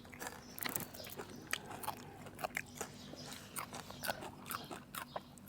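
Sun-dried pork eaten with spicy papaya salad and new-season rice gives crisp, close bites and steady crunching and chewing with moist mouth clicks, heard alone.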